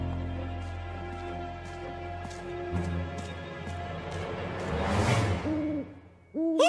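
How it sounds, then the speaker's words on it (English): A cartoon owl hoots in a series of repeated, evenly spaced calls set against a musical score, with a crash-like swell of noise near the end and no talking. "No, that's just an owl, Lofty"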